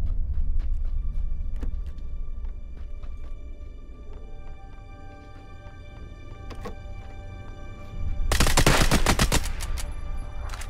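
Gunfire in PUBG on a snipers-only server, scattered faint shots over a low rumbling background, then a loud close burst of rapid shots near the end.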